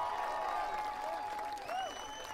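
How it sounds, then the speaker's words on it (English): Audience applause at a live concert at Esker Point, a soft, steady wash of clapping with whistles and cheers rising above it. "How about a round of applause for Darian tonight?"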